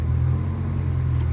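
A 1997 Honda Civic DX with a D16Z6 engine that has an idle fault runs close by with a steady, loud low rumble and hum and no clear rise in revs.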